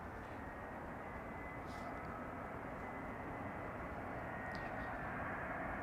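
Arriving jet airliners approach Amsterdam Schiphol airport, a steady distant engine rumble holding evenly across the whole stretch with a couple of faint high hisses above it.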